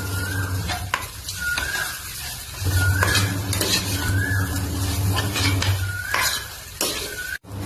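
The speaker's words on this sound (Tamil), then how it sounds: "இப்ப நம்ம சப்பாத்தி இதோட ஆட் பண்ணிக்கலாம். அதுக்கப்புறம் மிக்ஸ் பண்ணலாம்." Chapati pieces are stirred and fried in a pan with a steady sizzle under repeated clinks and scrapes of a metal utensil against the pan, close and fairly loud, with no speech.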